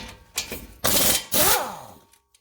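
An 18 mm socket on a tool works the brake caliper bolts loose on a Ford F150, several short loud mechanical bursts of ratcheting and whirring, close up with brief pauses between.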